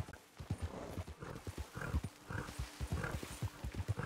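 In Red Dead Redemption II a horse walks along, its hooves clopping in a steady walking rhythm that is close and clear, with a faint animal call partway through.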